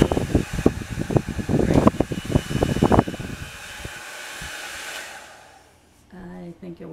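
A MONOMONO hair dryer runs loudly with a broad airy roar and rattling bursts for about three seconds, then settles into a steadier whoosh that fades down near the end before another brief sound.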